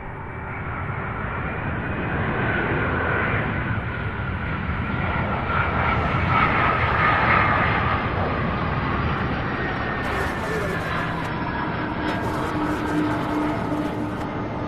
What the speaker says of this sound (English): Beautiful landing